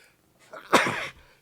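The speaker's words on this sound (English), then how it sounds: "Ooh, sneeze." One close sneeze with a short inhale before it, then silence.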